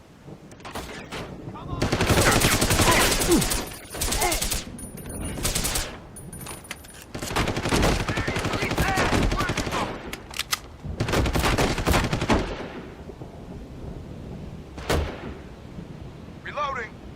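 Heavy automatic gunfire rattles in long, loud bursts during a Deus Ex: Human Revolution firefight, with pauses between volleys and a few short spoken lines in between.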